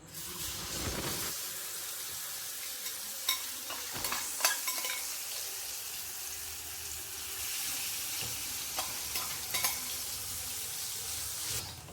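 Prawns fry in hot oil in a pan for a spicy prawn roast, a constant loud sizzling hiss with occasional spatters and scraping stirs against the metal, no voices.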